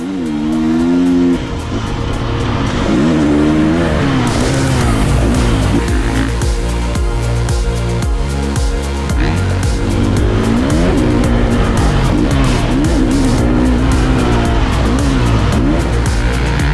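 A 2023 KTM SXF450 motocross bike riding laps, its engine loud and close with rising and falling revs as it accelerates and shifts, running continuously with no talk.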